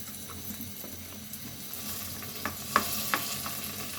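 Quiet sizzling and stirring of spice paste frying in a pan, with a few sharp clicks of a utensil scraping near the end, no talking.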